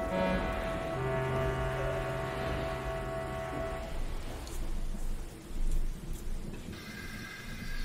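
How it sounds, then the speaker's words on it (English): A heavy thunderstorm with steady rain pouring down and deep thunder rumbling loudly, alongside a sustained tonal musical layer that cuts off partway, leaving the rain and a few sharper thunder cracks. "this rain is dreadful. I say, shouldn't the storm have ended by now?"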